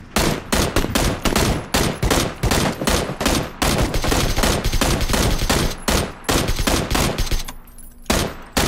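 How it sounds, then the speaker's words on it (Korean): Rapid bursts of gunfire crackle almost without pause through a battle royale video game firefight, loud and dense, with a short lull near the end before the shooting resumes. "우리 총 쏜다"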